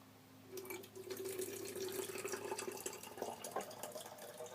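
A garden watering can is filled from a tap. Water runs steadily and close, its rushing tone shifting as the can fills, with small splashes near the end.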